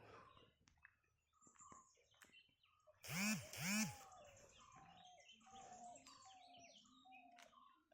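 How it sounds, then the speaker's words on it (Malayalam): Birds chirp and call all around in quiet morning air in the Nilgiri hills amid tea plantations, short tweets scattered throughout, with a louder pair of calls near the middle. "പ്രകൃതിയുടെ പക്ഷിയുടെ സൗണ്ടൊക്കെ കേൾക്കുന്നത് വിചാരിക്കുന്നു."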